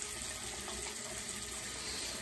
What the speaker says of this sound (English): run a little bit of water here just to clean up